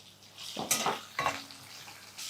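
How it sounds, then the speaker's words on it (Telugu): Green chilli pieces fry in a pan of tamarind rice, giving a few short sizzling bursts and stirring scrapes, close and moderately loud, separated by quieter gaps. "పచ్చిమిర్చి ముక్కలు వేస్తున్నాను."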